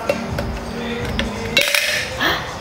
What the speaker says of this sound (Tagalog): nabasag yung baso ko